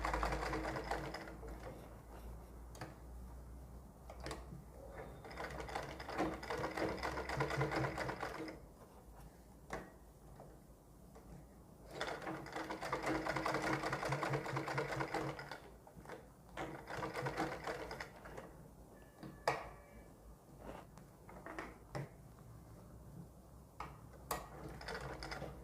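A sewing machine stitches along the sleeve edge of a suit, a quiet rapid mechanical whirr in bursts several seconds long with short pauses between, close by with no talk.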